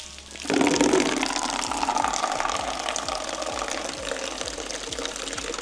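Rusty water pours steadily out of an old Subaru into a bucket, a continuous close splashing gush that begins suddenly and holds at an even level.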